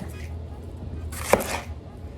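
A knife tips and tails an onion on a cutting board while fresh salsa is being made, giving a short burst of close chopping with one sharp cut in the middle.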